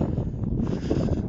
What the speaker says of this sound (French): toujours autant de vent